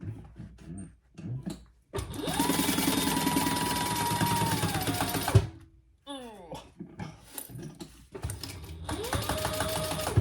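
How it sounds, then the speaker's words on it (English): A sewing machine stitching a wallet, running in two bursts of rapid, steady mechanical whirring with a rising whine at each start, separated by quiet handling sounds, with a voice speaking in between. "And we're going to sew that together."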